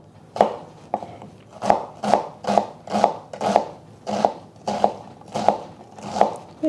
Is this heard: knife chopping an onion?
yes